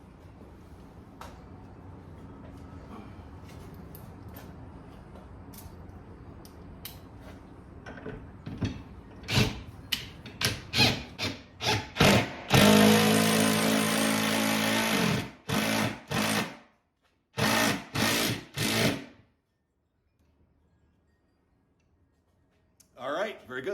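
A power tool drives in the bottom bolt while a bicycle storage rack is mounted in a home garage, firing in short, loud, close bursts that grow more frequent before stopping, over a low background.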